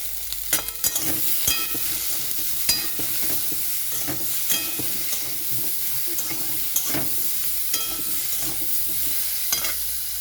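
Hog plums frying and being stirred with salt and turmeric in a pan, a steady sizzle broken by repeated scraping clicks of the spoon, close and alone.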